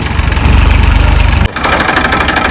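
A loud, steady tractor engine chugs and knocks up close while hauling manure on a farm, with a brief drop in pitch midway before it carries on running.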